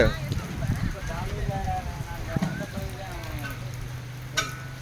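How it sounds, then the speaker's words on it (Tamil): Steady rain pours outdoors at a temple food-serving area, a dense hiss spread through the whole stretch while a person talks over it close by. "சாப்பாடு வாங்குகிற இடத்துலே மழை கொட்டுது."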